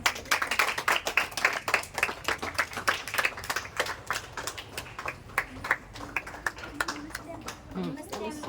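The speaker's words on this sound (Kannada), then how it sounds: "ಎಲ್ಲ ಒಂದ್ಸರಿ ಚಪ್ಪಾಳೆ ಹೊಡಿರಿ." Audience at a yoga and spiritual gathering clapping together in a quick, even rhythm of sharp claps, with voices talking underneath and the claps thinning out toward the end.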